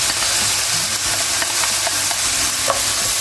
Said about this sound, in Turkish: Geldi mantarlarımı eklemeye. Onları da soteliyorum.